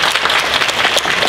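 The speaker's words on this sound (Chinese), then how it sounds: "我們一起給他們鼓掌好不好？" A church congregation bursts into steady applause for the fathers at a Father's Day sermon, dense, close clapping filling the whole moment without any voices.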